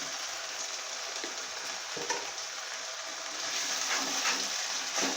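About two spoonfuls of tomato puree sizzle steadily in a pan of jackfruit and prawn curry while being stirred, a soft continuous frying hiss with faint scrapes and no talking.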